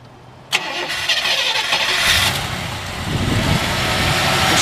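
A restored 1961 Chrysler Imperial Custom engine cranks briefly and catches, then settles into a loud, close, steady idle that rumbles on for several seconds.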